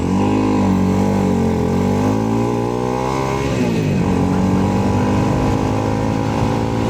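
A motorcycle engine while riding, a loud steady drone whose pitch rises, then drops sharply at a gear shift before climbing again, close and dominant with wind noise underneath.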